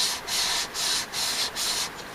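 Hand sanding on wood, four rhythmic back-and-forth rasping strokes with brief pauses between, close by.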